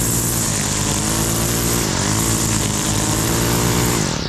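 A string trimmer cuts along a lawn edge with a loud, close, steady motor whine. Its pitch dips and rises briefly as the line bites into grass.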